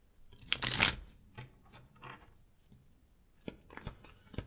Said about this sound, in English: Don't like shuffling on top of cards.